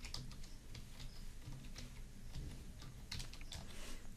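Rapid, irregular keystrokes clatter on a computer keyboard, close and quiet, a run of light clicks with small pauses between bursts and no talking.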